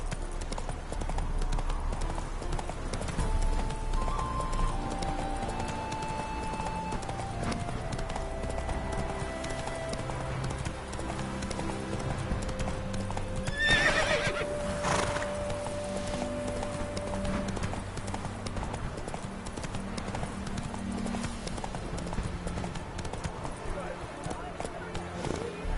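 Horse hooves clip-clop at a steady gallop in The Witcher 3, the rhythmic thudding running throughout under game music and occasional spoken voices.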